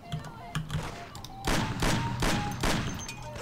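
In the video game Mafia, several sharp gunshots fire in a quick rhythmic series, loud and close, over softer electronic tones and beeps.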